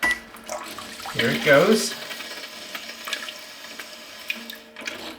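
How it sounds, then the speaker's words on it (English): Water sprays from the rear bidet wand of a RekeSmt smart toilet, a short hissing burst that swells after a spoken line, then settles into a quieter steady flow under room noise. "I'm gonna do a rear bidet wash by pushing this button."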